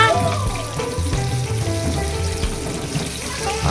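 Tofu frying in a pan as the pieces are turned over, a steady loud hiss and crackle close by with low clatter from the flipping and a voice talking faintly beneath.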